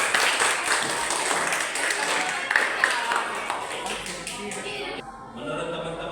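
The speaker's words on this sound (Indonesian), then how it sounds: "Tepuk tangan dulu." A group claps hands together during a stage-performance exploration session. The clapping is close and fairly loud and runs for several seconds before trailing off into a quieter, scattered patch near the end.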